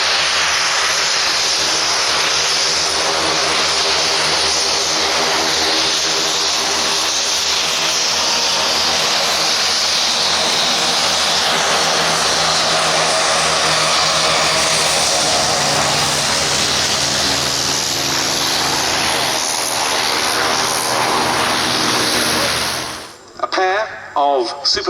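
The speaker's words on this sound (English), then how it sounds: "of Supermarine Spitfire 1As, the first of them, IWM's own aircraft, the Dunkirk veteran, serial N3200." Supermarine Spitfire Mk IA, the Dunkirk veteran N3200, flying at the Duxford Battle of Britain airshow, a loud sustained piston-engine roar with a slowly shifting pitch as it passes, under a commentator's voice, then cutting off abruptly.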